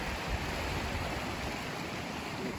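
A river stream rushes steadily with broad, constant water noise at a riverside spot along the Appalachian Trail, even and unbroken throughout.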